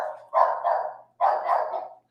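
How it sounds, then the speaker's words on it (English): A dog barks indoors in two drawn-out, howling bursts, the first lasting nearly a second and the second following after a short pause, moderately loud with no talking over it. "My dog's going crazy."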